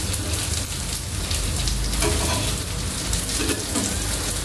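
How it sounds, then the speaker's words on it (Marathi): Tikki patties shallow-fry in oil after being flipped, a loud, dense, continuous hiss and crackle close by that holds steady with no talk. "बऱ्यापैकी शॅलो झालेली आहे, फ्राय झालेली आहे ती."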